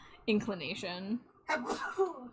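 Sneezes from a woman in a room come as two short bursts, each a sharp breathy intake and expulsion with voiced tone, fairly close, separated by a brief pause.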